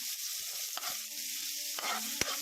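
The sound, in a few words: garlic and onion sautéing in a pan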